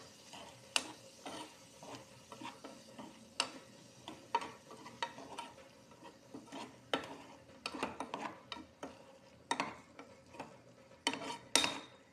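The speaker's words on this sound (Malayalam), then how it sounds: "എല്ലാം കൂടെ നമ്മളൊന്ന് മിക്സ് ചെയ്തെടുക്കണം" Prawn pickle is stirred together with vinegar in a pan off the heat, a quiet series of irregular spoon scrapes and sharp metallic clinks against the pan, close and without talk.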